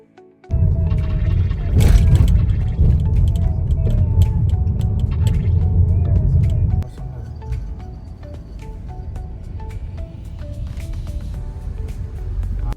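A car climbs the Srisailam ghat road through the forest on a trip from Hyderabad to Srisailam, giving a steady, close, low cabin rumble that is loud at first and then settles softer. No voices are heard.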